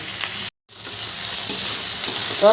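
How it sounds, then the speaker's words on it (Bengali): Spices frying in a pan with salt, chilli powder and cumin powder, giving a steady close sizzle and stirring scrape, broken by a brief dead silence before the sizzle resumes, with a few sharper clicks of a spoon. "দিয়ে সব কিছু খুব ভালো করে ভাজতে হবে"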